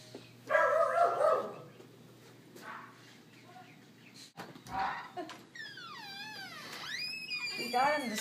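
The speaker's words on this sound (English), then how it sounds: "We got him to start barking" A Standard Schnauzer gives a short burst of barks at a home's front door, moderately close, followed by quieter stretches while people talk and a high whining or squeaking tone sweeps near the end.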